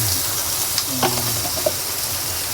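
Onion and garlic sizzling in hot oil in a pan, a steady close frying hiss with small crackles and a brief stirring scrape, no talking.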